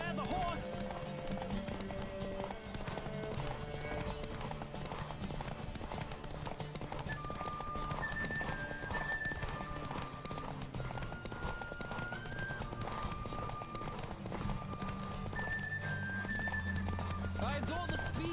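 A horse in The Witcher 3 gallops with steady clip-clop hoofbeats over continuous music, with a brief whinny and some talking mixed in.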